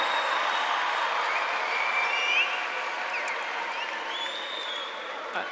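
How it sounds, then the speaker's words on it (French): An audience applauds after a film screening, sustained dense clapping from a seated crowd that holds steady then eases slightly toward the end. "on peut le remercier en le félicitant et en l'applaudissant"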